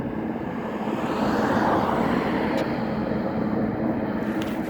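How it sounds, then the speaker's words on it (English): A helicopter flying over a wildfire burn area gives a steady, broad rumbling roar that swells slightly and holds at a fairly constant level, with no speech. "There's the helicopter right there."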